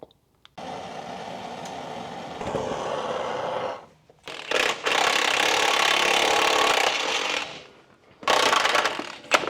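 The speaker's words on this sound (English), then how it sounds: "Hopefully with some pressure on the motor mount itself, this nut will come off." Metal grinding and rubbing from a wrench working a stuck nut off a car motor mount, loud and close in two long sustained bursts with brief pauses, then a final shorter burst.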